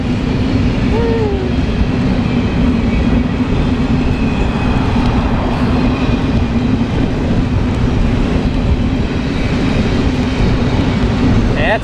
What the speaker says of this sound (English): That's a long train too.